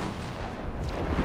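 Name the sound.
gunfire in a video game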